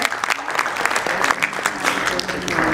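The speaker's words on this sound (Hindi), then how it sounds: "मैं चाहूंगी आप इनके लिए भी जरूर एक बार तालियां बजाएं" Audience applause at an art gallery event, a dense, steady patter of many hands clapping throughout at moderate loudness, with no talk over it.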